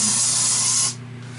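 A spray can releases one steady, loud hiss for a little under a second, then cuts off, leaving a quiet background.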